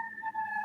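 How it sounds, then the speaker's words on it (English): A siren drones faintly in the distance, a steady two-tone wail held without a break under quiet room noise, with no talk over it. "Also, nice siren in the background for someone."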